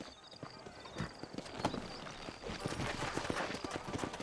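Hooves clip-clop in an uneven rhythm, several horses moving together at a moderate pace, fairly close with a soft outdoor background, in the video game Red Dead Redemption.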